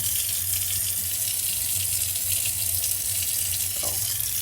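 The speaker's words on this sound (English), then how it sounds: "I'm gonna put some water in the sink." A faucet runs steadily into a newly installed Kraus kitchen sink, a constant close splashing stream with a low hum underneath and no talking.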